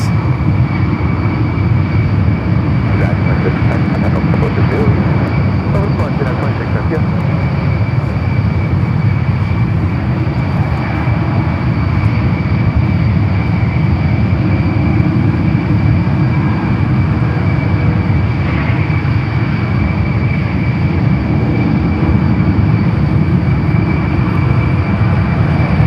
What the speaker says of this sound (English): Another United Dreamliner heading out to the 28s.